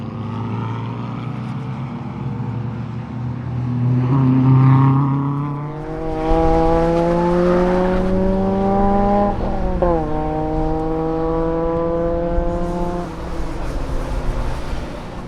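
An R53 Mini Cooper S drives hard around the Blyton Park race track, its engine loud and steady, rising through the revs with clear gear changes and a brief lift-off partway.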